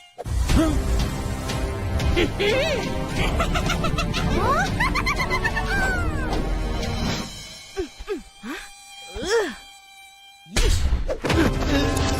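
Cartoonish high whining buzz of a mosquito swooping up and down in pitch over loud music and effects, fading out before an abrupt crash.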